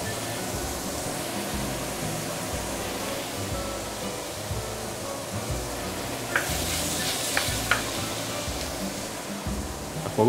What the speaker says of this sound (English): we're going to saute the ginger, shallot, and also garlic just now.